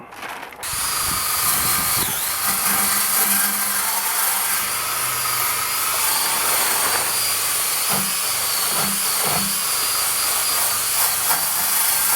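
Brake cleaner is sprayed onto the brake parts of a Ford F150 in a loud, continuous aerosol hiss close to the mic, with faint clinks of metal beneath it.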